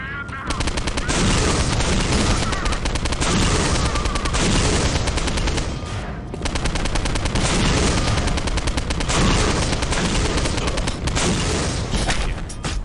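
Sustained rapid machine gun fire blasts almost without pause in the shooter game Postal: Paradise Lost, dense and loud, with one brief gap before the bursts resume.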